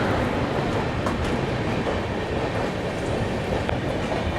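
Purushottam Express (New Delhi–Puri) arriving at Govindpuri railway station platform 3, a loud, steady rumble of rolling coaches with faint wheel clatter, close and continuous.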